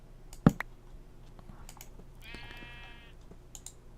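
A sheep bleats in a Minecraft modpack, a short wavering call under faint keyboard and mouse clicks, after one sharp click near the start.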